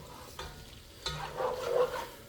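Shredded cheese being stirred into a buttery mixture in a frying pan during a ribeye steak dinner, with soft scraping strokes and a gentle sizzle that grows louder toward the end, no talking.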